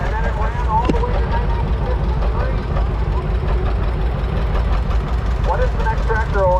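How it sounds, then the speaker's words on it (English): A John Deere Model B tractor from 1934–1953 runs at a tractor show in Ellison Bay, Wisconsin, giving a steady low engine chug throughout while a person talks over it. "It's a John Deere Model B."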